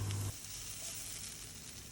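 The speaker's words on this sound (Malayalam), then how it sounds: "അപ്പോൾ അതൊന്ന് ബ്രൗൺ കളറാവുന്നവരെ ഒന്ന് ഇളക്കിയെടുത്തിട്ട് സവാള അരിഞ്ഞത് ചേർത്തെ" Chopped onion frying in a pan while being stirred, a close, continuous crackling sizzle heard alone, with a brief low thump at the start.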